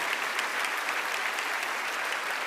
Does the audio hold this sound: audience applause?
yes